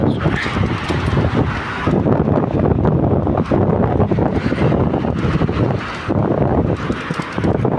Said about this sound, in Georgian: ქარი მიბერავს და საერთოდ ქარი უბერავს